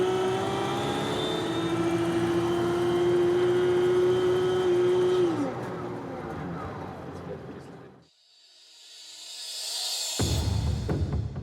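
Mercedes 770 engine with its supercharger compressor engaged, a loud sustained whine and roar that drops off, cuts out briefly, then returns with a burst of revving.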